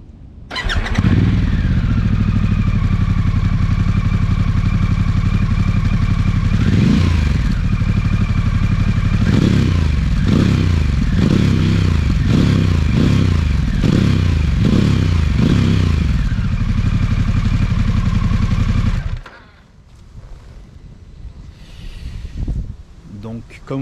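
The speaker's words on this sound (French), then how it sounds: "Je vous invite maintenant à découvrir le son qui se dégage de cet échappement Screaming Eagle." A 2021 Harley-Davidson Pan America 1250 S twin-cylinder engine with a Screaming Eagle exhaust idles loudly with a rough, throaty rumble, revving several times in quick blips before shutting off and leaving faint background noise.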